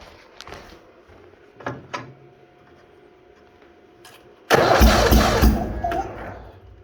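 A Bolens HT-23 garden tractor in a -40 cold start, with weak clicks and brief starter whirs early on, then a loud sustained cranking burst from about four and a half seconds as the engine turns over without catching.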